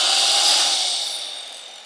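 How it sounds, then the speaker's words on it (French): A circular saw running from an Allpowers R2500 power station, a loud, steady high whine with a buzzing motor tone that slowly tapers down in level, with no voices. "On allume la scie circulaire."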